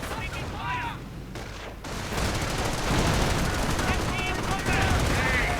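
Machine-gun fire in a World War II strategy game pins troops down, with bursts of rapid shots and rumbling battle noise. A commentator's voice runs over the gunfire.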